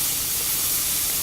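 Steam hisses steadily from a pressure cooker cooking shrimp biryani, a loud continuous close rush of white noise with no talk.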